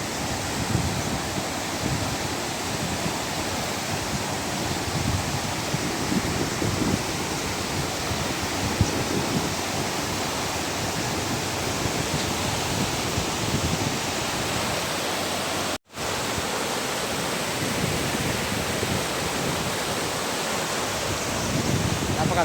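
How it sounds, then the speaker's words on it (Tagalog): Broad, steady rushing of flowing mountain river water fills the scene, constant and loud, with a brief dropout partway through. "Ang ilog."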